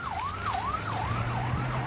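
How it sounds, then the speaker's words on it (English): Wailing sirens from an Israeli special forces convoy driving past in southern Israel, a loud rising-and-falling cycle repeating about every half second over a low engine rumble, close by and with no talk. "A convoy of Israeli special forces just drove past, sirens on, heading south."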